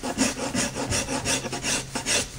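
Rasp filing a wooden axe handle to fit the head, a close, steady back-and-forth scraping with about six even strokes in quick rhythm, no voices.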